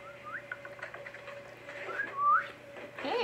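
A person whistles a few short, sliding melodic notes, fairly faint and close, over a steady low hum with no talking.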